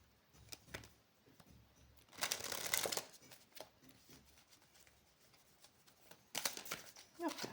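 A deck of playing cards being shuffled in quick riffling bursts, loudest around two to three seconds in and again near the end, with quieter card handling in between and no talking.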